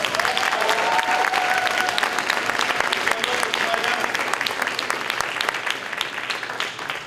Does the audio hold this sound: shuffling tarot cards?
no